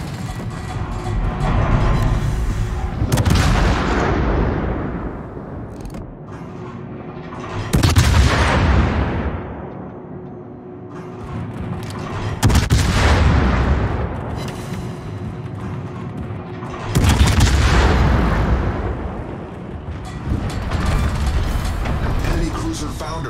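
Anti-aircraft gun fire in a video game, heavy booming salvos arriving in four or five loud waves a few seconds apart, each decaying into rumble, with a voice speaking over it.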